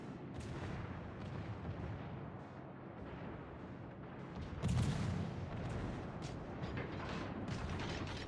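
A tank cannon in a video game fires a shell: one heavy boom cuts through the steady rumble of engine and battlefield noise, with that low droning bed holding before and after the shot.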